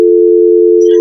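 A steady electronic telephone call tone, one loud unbroken pure hum lasting the whole second, sounding while someone phones a rescue team.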